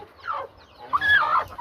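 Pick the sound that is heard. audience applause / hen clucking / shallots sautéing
hen clucking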